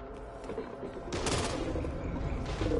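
Gunfire in the zombie shooter video game Back 4 Blood, sharp rapid bursts of shots, fairly quiet and somewhat distant, intensifying partway through over a low background.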